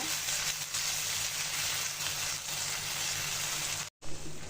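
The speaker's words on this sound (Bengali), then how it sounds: "টক দইটা দিয়ে ভালো করে মশলার সাথে কষিয়ে নেব।" Spiced masala with yogurt sizzles steadily in a pan for an egg korma, a close, even frying hiss with a brief cut near the end.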